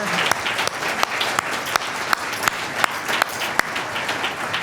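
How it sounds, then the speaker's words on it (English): Audience applause at a Kentucky Arts and Letters Day event, steady clapping from a crowd with some sharper individual claps standing out, sustained throughout. "I'd like you to join me, her mother, and her grandparents in a round of applause"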